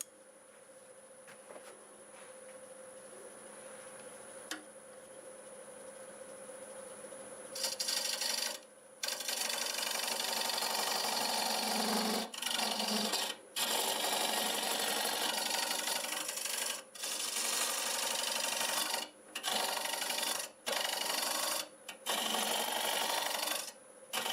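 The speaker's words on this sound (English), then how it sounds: "I'm going to use this small carbide hollowing tool and just get that started." A small carbide hollowing tool cuts into a wooden bowl spinning on a lathe, giving a steady loud rasping scrape that runs in long passes broken by brief pauses, after a quieter stretch of motor hum.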